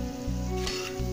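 Chicken pieces, already partly cooked, sizzle and fry on a hot tawa with masala, a steady crackle broken by a few scraping stirs, close up with no talking.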